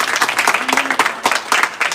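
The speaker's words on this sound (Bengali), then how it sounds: "এই উদ্দেশ্যে আমরা সব একটা হাততালি দিব।" Students clapping together at a campus protest, a brisk burst of many hands applauding with dense irregular claps, loud and close, with faint voices underneath.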